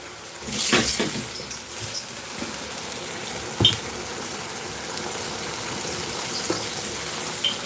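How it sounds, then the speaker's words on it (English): Liquid splashing and sizzling in hot frying oil while Jamaican steam fish and pumpkin-herb dumplings cook, a steady close crackling hiss with a louder splash burst near the start. "the liquid splashing in the oil, which is not really good"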